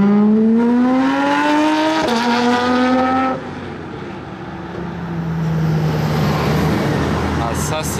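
A blue Aston Martin Vantage at a Gumball 3000 stop in France growls loud and close, its engine revving in rising sweeps and then dropping to a lower steady drone, while people talk nearby.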